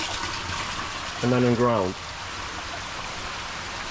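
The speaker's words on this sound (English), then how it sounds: "it all runs down here, and then it overflows into that tank and into this tank, and then into the filter" Water overflows from one acrylic fish tank into the next and on into a filter in a 1000-gallon aquarium setup, a steady trickling gush running beneath a short spoken phrase.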